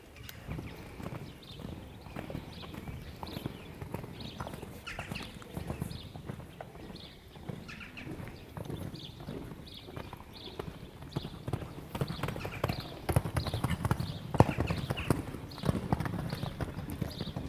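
Horses' hooves clip-clop steadily through a jumping exercise in an outdoor riding session, a dense, continuous patter of fairly near footfalls that grows somewhat louder toward the end, with no talk over it.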